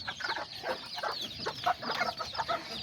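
Miniature Azteca and Serama chickens cluck nearby in a quick, irregular series of short clucks and chatters, with no voices over them.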